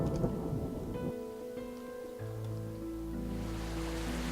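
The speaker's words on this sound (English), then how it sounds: "It just gets right into the storm." Thunderstorm in the video game RainSwept: steady rain hiss with low rumbling thunder swelling toward the end, layered under a sustained musical drone, no talking.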